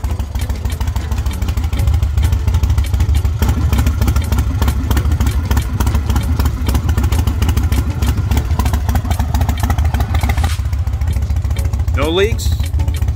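Yamaha XV1700 Roadstar motorcycle engine idling after a fresh oil change, a steady loud low rumble running throughout with light mechanical clatter and a brief squeak near the end.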